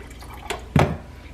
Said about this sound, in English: I'm going to pour that into the back of the coffee maker